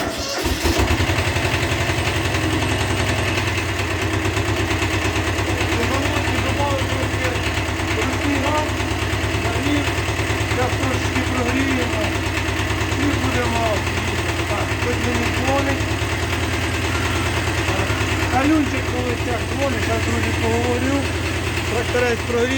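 A Kubota mini tractor starts up and its engine idles steadily with a low, even knocking chug and vibration, close by, while a person talks over it throughout.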